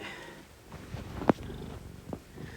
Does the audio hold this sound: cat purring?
yes